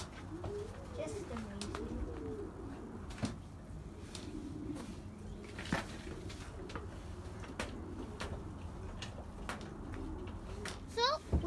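Oriental frill pigeons coo repeatedly in a new coop and flight pen, soft low rolling calls running steadily under a man's occasional quiet speech.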